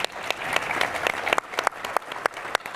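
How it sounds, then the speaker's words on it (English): Audience applause at a Heritage Foundation event, dense steady clapping from a crowd with a few sharper claps standing out, no talk over it. "we all owe a round of applause to their coming to Heritage"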